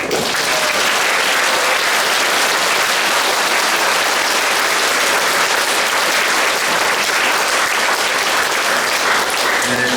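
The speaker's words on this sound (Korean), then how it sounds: "우리 황시부님과 수님 두 분을 위해서도 한번 큰 박수." Sustained, dense applause from a church congregation at a Catholic confirmation ceremony fills the space, loud and continuous without a break for ten seconds.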